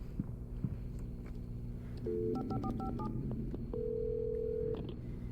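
A phone is dialed in the video game Alan Wake Remastered: a quick series of short touch-tone beeps, then one longer steady tone, heard faintly over a low background hum with no talking.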